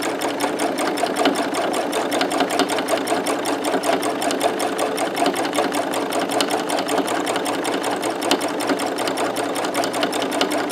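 A sewing machine stitches a patchwork fabric collage notebook cover, running continuously with a fast, even mechanical chatter, loud and close throughout with no speech.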